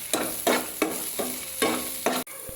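Vegetables with soybeans and spices being stir-fried in a pan, a spoon scraping and tossing in regular strokes about every half second over a continuous sizzle, close and fairly loud, ending with a sharp knock.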